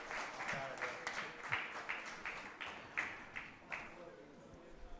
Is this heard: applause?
yes